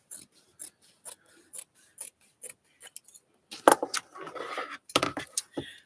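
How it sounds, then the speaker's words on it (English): Scissors cutting fabric pieces, a regular series of crisp snips close by, followed by a louder stretch of rustling, rubbing and metallic clicking as the blades work through the cloth. "Concentrating on cutting my fabric pieces here."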